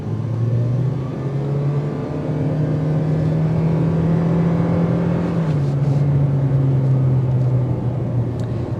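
A 2023 Toyota Prius XLE hybrid accelerates on a test drive, its engine droning loud and steady from inside the cabin, rising slightly in pitch and then dropping back near the end, with no one talking.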